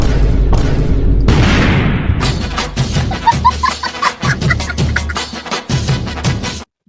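A loud blast from a firecracker bomb set in cow dung, followed by a rapid crackling burst of bangs and pops, close and harsh, dying away after several seconds.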